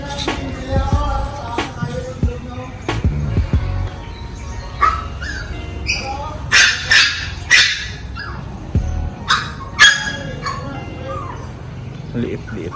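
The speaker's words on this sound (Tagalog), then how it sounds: "Liit-liit na aso, sobrang ingay." A small dog barks in short, sharp yaps repeated several times at close range, with people talking around it.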